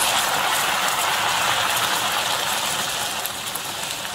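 Aalanga dough balls frying in shallow hot oil over a low flame, a steady dense sizzle and bubbling hiss that runs continuously and fairly close, with no talking over it.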